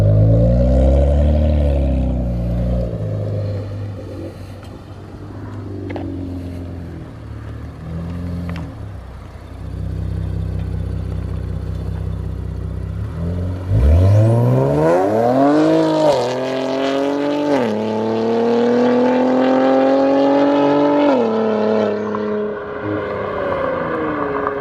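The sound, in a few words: Infiniti Q60 with new downpipes revving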